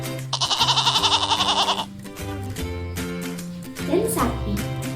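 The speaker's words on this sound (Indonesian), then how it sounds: "kambing," A goat bleats in a long, quavering, vibrato cry lasting over a second, loud and close, heard over a steady musical backing with a brief higher vocal sound near the end.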